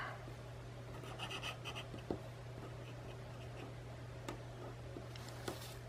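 A fairly soft graphite pencil scratches and strokes across paper in steady, close, quiet passes, with occasional sharper ticks over a constant low hum.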